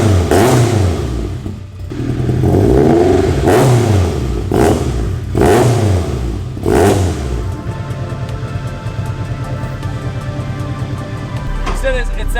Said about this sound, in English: When you put a titanium exhaust on a Honda engine,